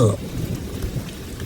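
Heavy rain pours in a stormy night with a low thunder rumble, a dense steady wash of noise, loud and close, with a brief tonal swell at the very start.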